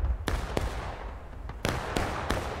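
Cannons fire in a War of Rights Civil War battle, several distant booming blasts at uneven intervals over a rumbling low background, with no voices.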